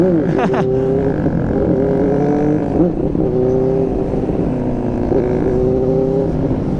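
Engine of a motorcycle weaving through traffic, a close steady drone with shifting revs, passing vehicles and rising and falling pitch sweeps as it threads between cars.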